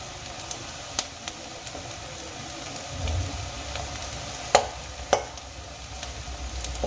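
Rice flour snacks frying in a little oil give a steady low sizzle, with a few soft clicks and taps from a utensil over the pan.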